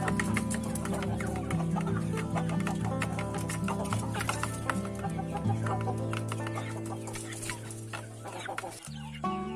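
Chickens kept together in a shared coop cluck steadily and close by, a dense chorus of overlapping calls with a droning hum underneath, fading slightly toward the end.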